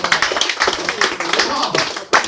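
Audience clapping at a comedian's comedy show at the Barge in Hertford, brisk close applause mixed with voices and cheers, continuing briefly before a sharp final accent.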